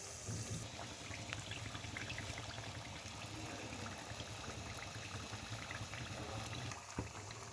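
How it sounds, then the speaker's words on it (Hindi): Karanji sweet pastries sizzle and bubble in hot oil for a Diwali treat, a steady dense crackle of frying that holds evenly throughout with no talking. "अब हम इसका साइड चेंज कर लेंगे और दूसरे साइड से भी हम इसे फ्राई होने देंगे।"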